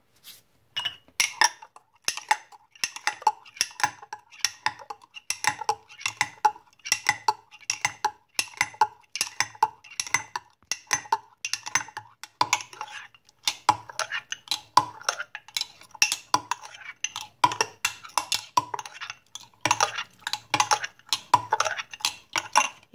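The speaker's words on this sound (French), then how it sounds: "Vous mélangez le tout." A spoon stirring a mixture, a quick, steady run of clinks and taps against the container for over twenty seconds, close and clear with no talk.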